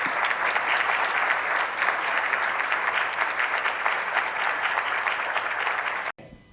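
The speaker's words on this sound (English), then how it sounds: "Let's give her another round of applause." Sustained applause from a symposium audience on food security, even and dense for about six seconds before cutting off abruptly.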